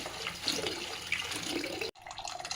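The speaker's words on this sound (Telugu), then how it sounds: "గిన్నె నిండా నీళ్ళు నింపుకొని" Tap water pours steadily into a bowl being filled for washing amaranth greens, a close, splashy rush that breaks off briefly and then resumes.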